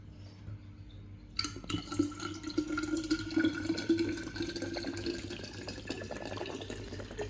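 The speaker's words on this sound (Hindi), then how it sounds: "ये बोतल पानी की भर लूँ" Cold water runs from a tap into a water bottle at home, starting abruptly and then gushing and gurgling steadily as the bottle fills, with no talking.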